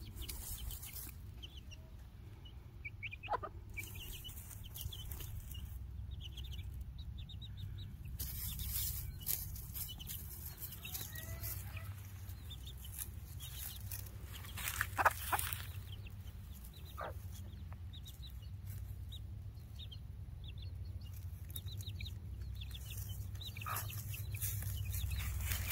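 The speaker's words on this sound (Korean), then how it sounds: "우리 병아리들이 햇빛 나들이를 나왔습니다" Young chicks cluck and peep faintly while out in the sunshine, scattered soft calls over a low outdoor rumble.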